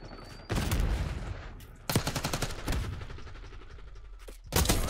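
Bursts of rapid automatic gunfire from the Black Ops 6 video game come in three loud salvos of fast, evenly spaced shots, separated by quieter gaps.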